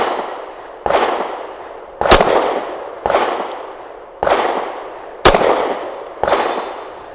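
Six sharp, loud pistol shots from a Beretta APX A1 Compact firing 147 grain HST rounds, spaced about a second apart, each followed by a decaying outdoor echo.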